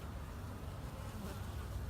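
Honey bees buzzing inside a hive, a dense, steady close-up drone with no pauses, continuous and fairly loud throughout.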